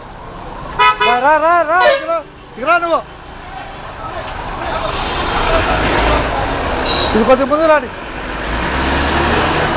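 Busy road traffic in Kolluru: repeated loud car and bus horn toots in short bursts, then steady engine and road rumble with another honk later, as someone speaks briefly at the start.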